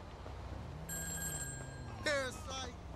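A phone rings in the video game Grand Theft Auto V with a bright electronic trill, steady tones followed by a burst of rapid warbling rings, while a voice speaks briefly beneath it.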